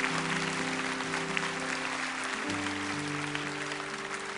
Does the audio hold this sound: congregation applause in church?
yes